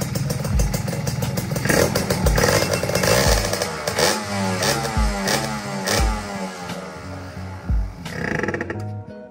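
A modified Ninja SS motorcycle with a loud aftermarket exhaust revs repeatedly in sharp bursts, close by, roaring and crackling between throttle blips.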